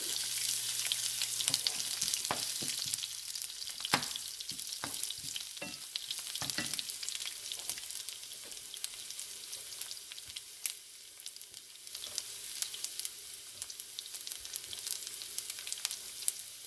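Fenugreek and mustard seeds sizzle and pop in hot oil, with crackling bursts early on, then garlic goes in and a steady frying hiss continues with occasional stirring, close up and with no talking.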